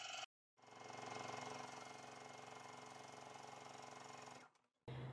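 A sewing machine runs a line of stay stitching on lightweight fabric for a floaty summer top, a steady close mechanical whir lasting about four seconds after a brief start, then stopping.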